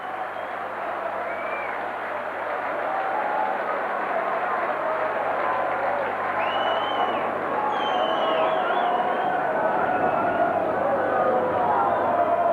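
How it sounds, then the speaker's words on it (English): Sustained crowd applause and cheering fills a rugby league cup tie between Leeds and Carlisle, a dense, steady wash of clapping from a large stadium audience that holds at an even level throughout. "they're getting a tremendous round of applause"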